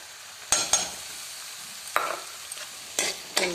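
Grated ginger being fried and stirred in a pan, with a soft continuous sizzle broken by a few sharp scraping stir strokes, close and moderately quiet.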